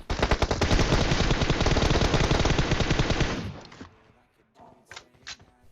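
Loud, rapid automatic gunfire in a shooting video game rattles continuously for about three and a half seconds, then cuts off, leaving a few faint scattered game sounds.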